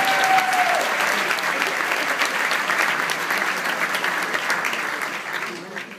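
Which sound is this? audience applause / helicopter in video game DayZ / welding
audience applause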